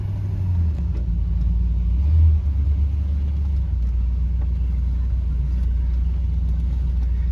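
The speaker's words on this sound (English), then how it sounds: "let's take a brief drive in the Park Lane here." A 1968 Mercury Park Lane Brougham sedan on the move, heard from inside as a steady low engine and road rumble with a brief swell of throttle and no talk.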